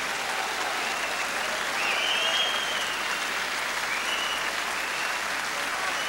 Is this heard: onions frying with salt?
no